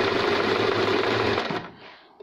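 A sewing machine stitches a buttonhole with a fast, even mechanical whir that runs steadily, then winds down and stops, followed by a faint click.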